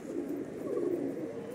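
Pigeons coo softly and continuously at close range, a low throaty burbling rolling on through the short stretch with no talking.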